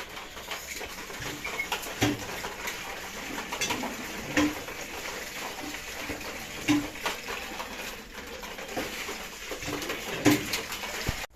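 Racing pigeons in their loft make soft, low cooing sounds, with scattered clicks and faint knocks over a quiet, steady background.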